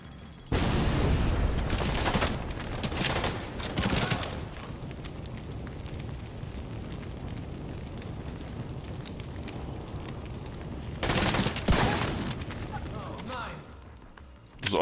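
Gunfire in The Division 2 video game breaks out in two dense, loud bursts of rapid shots, one early and one near the end, with a rumbling battle backdrop between them and a voice talking along.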